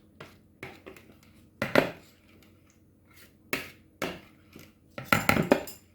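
Red velvet cake batter being mixed by hand in a bowl, with irregular clinks and scrapes of a utensil against the bowl coming in short bursts, fairly close and moderately loud, with no talking.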